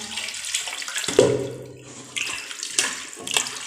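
Hot water is poured into a clay pot used for churning butter, a gurgling splashing stream broken into short bursts with brief pauses between pours, close and alone.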